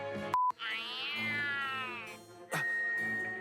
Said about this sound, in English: You hear that? The cat.